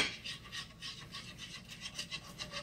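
A whisk scrapes rhythmically against a pan of breakfast country gravy on the stove, soft repeated strokes at a quick, fairly even pace, faint and close.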